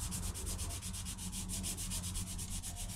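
Steady rhythmic sanding of primer on a 3D-printed part, a raspy abrasive rub repeating quickly and evenly, close and fairly quiet.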